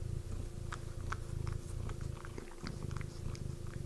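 A cat purrs close to the microphone, a soft steady rumbling throb that pulses with each breath, with faint light clicks and rustles around it.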